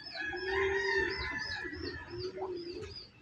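A chicken gives a run of clucking, crowing-like calls at close range as a bird enters, with fairly quiet, bright, wavering notes and short gaps between them, heard alone without talk.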